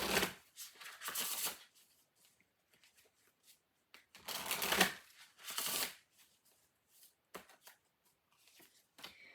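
Spellcasting oracle cards are shuffled in close bursts, three or four brisk riffling runs separated by short quiet gaps, with no talking over them.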